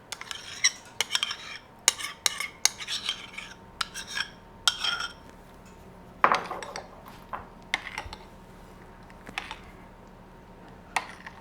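Muffin batter with milk and vinegar being gently folded in a bowl, irregular soft scrapes and clicks of a utensil against the bowl, close, quiet and without talk.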